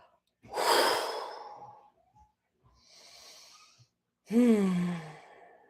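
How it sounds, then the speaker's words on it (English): A person draws a deep breath in and lets it out slowly in a relaxed sigh, close and soft, with a quieter breath in between and a long voiced exhale at the end. "Taking a breath in and just let it out."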